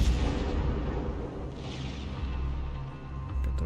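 Heavy naval gunfire from the cruiser Petropavlovsk in World of Warships rumbles continuously, deep booming blasts blending into a dense, loud low roar throughout.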